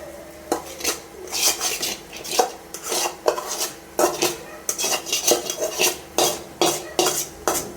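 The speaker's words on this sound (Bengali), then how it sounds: "আর এবার নুডলস গুলো ঢেলে দেবো" Noodles being tipped into a pan and worked around with a utensil, a repeated run of metallic scrapes and clatters close by, steady and busy for the whole stretch, with no voices.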